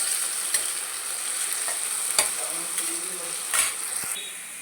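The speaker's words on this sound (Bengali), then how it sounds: "এবার আলুর মধ্যে অল্প লবণ দিয়ে দেবো, দিয়ে একটু নাড়িয়ে লাল লাল করে ভেজে নেব।" Potatoes frying in hot oil with a pinch of salt, stirred in a pan: a steady close sizzle with scraping strokes and a few light clinks of the spoon against the pan, no talking.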